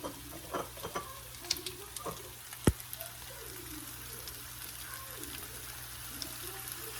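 Chicken fried rice sizzles steadily in a hot pan as teriyaki sauce goes on, a dense crackling hiss with scattered sharp pops and one loud clack, no talking over it.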